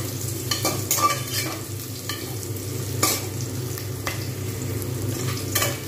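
Fenugreek seeds and onions fry together in a pan, giving a continuous, fairly loud sizzle with regular scraping strokes from stirring every second or so, and no speech.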